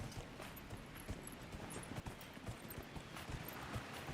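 Horse hooves in Dragon Age: Inquisition clip-clop in a steady walking rhythm over a soft ambient bed, quiet and moderately close, with no talking.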